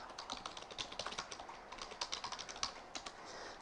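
Someone types on a computer keyboard in quick, uneven runs of soft, close key clicks. It is fairly quiet and there is no talking over it.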